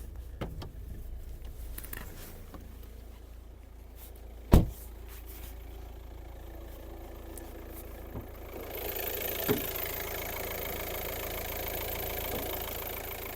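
Skoda Octavia 1.9 TDI diesel with automatic gearbox idles at close range, a steady low engine hum with a couple of brief knocks and a brighter shift in tone partway through.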